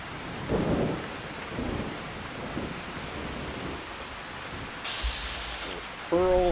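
Steady rain falls and low thunder rumbles in Fallout 4, with the rumble swelling and fading several times beneath the hiss, and a brief electronic chirp near the end.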